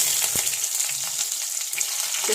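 Fenugreek seeds frying in hot oil in a pan, giving a steady close crackling sizzle throughout with a brief stir or pop near the start, no voices.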